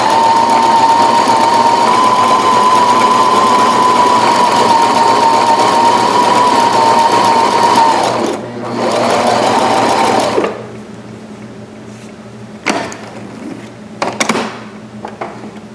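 A sewing machine stitches a buttonhole in reverse up the other side, working on black fabric for pajama pants, with a steady loud whirring run for about eight seconds, a brief pause, another short burst, then stopping with a few faint clicks.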